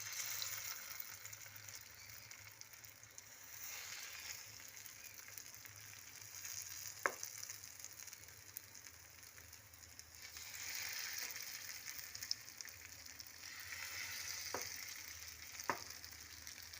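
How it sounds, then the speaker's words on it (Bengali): Paneer kebabs frying in a little oil give a soft, steady sizzle at low level, with a few faint clicks and taps scattered over it and no talk. "এবার আস্তে আস্তে এগুলোকে একটা একটা করে আমি ভেজে তুলব।"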